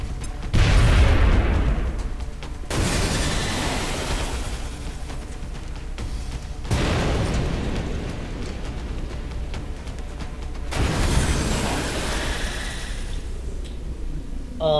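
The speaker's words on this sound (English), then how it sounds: "Two grenades." Grenade explosions in the video game XCOM, three heavy booming blasts a few seconds apart, each with a rumbling tail, loud and close.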